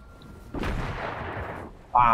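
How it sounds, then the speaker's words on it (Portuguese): Sniper rifle shots in an online shooter game: one booming shot with a long rolling tail, then the sharp onset of a second, loud and close. "eu tô errando o tiro do sniper"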